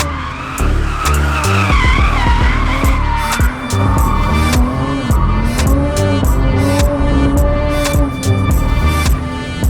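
A BMW 1M skids with loud, continuous tire squeal over a hard-revving engine, the shrieking rising and bending in pitch for nearly ten seconds without a break, up close.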